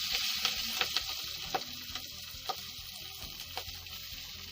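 Spinach and spring onions fry in a pan during village cooking, giving a continuous soft sizzle with small irregular crackles and stirring taps over a low background hum.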